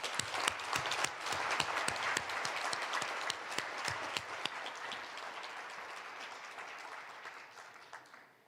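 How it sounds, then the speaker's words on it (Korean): An audience at South Korea's 53rd National Prayer Breakfast applauds warmly, dense clapping that stays steady and then gradually fades toward the end. "다 같이 열렬한 박수로 환영하겠습니다"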